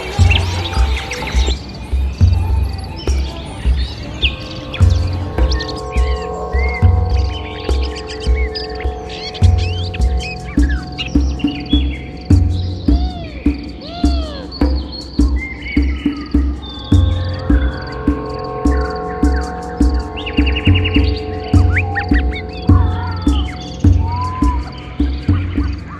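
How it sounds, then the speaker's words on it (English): Birds chirp repeatedly over a busy, rhythmic background with low pulsing tones and insect-like buzzing, fairly loud and continuous throughout. "Too many birdies here."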